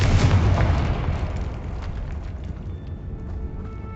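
A Confringo blasting spell explodes in Hogwarts Legacy with a loud, deep boom right at the start, then a long rumbling decay that fades slowly over several seconds with faint debris crackle.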